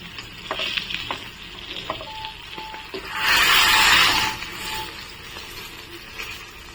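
Stuffed bangda mackerel shallow-frying in a pan, a soft crackling sizzle with scattered light clicks and taps, then a louder, fuller burst of sizzling midway as the fish is turned over, settling back down afterward.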